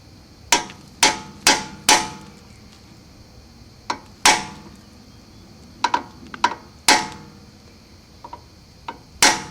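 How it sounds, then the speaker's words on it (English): A hammer strikes the seal on a 1970 Mercedes-Benz 280 SE rear axle in about a dozen sharp, ringing metallic taps with irregular gaps, close and loud. "get on the outer edges of the seal and get an even lick on it with a hammer"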